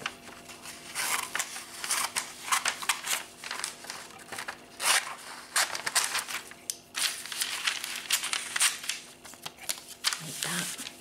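Scissors snip and paper rustles close up as a Nutella picture is cut out of a glossy supermarket brochure, with irregular crinkling and cutting bursts.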